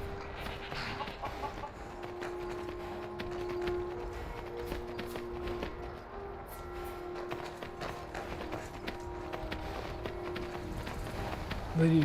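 A horse's hooves clop steadily across the ground in the video game Skyrim, a soft rhythmic galloping patter heard faintly under quiet ambient game sound for the whole stretch.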